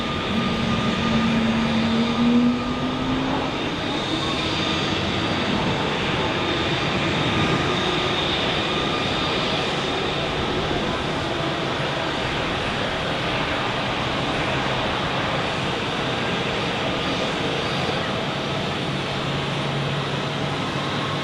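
Airliner jet engines at Zurich airport give a continuous broad roar with a steady whine on top during takeoff and arrival traffic, loud and unbroken, with no voices.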